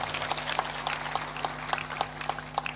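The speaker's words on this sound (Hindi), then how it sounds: "आप लोग भी ताली बजाकर इनको धन्यवाद दीजिए।" An audience at a devotional discourse claps in thanks, a steady, fairly even patter of many hands that sounds somewhat distant, with a low electrical hum underneath and no talking.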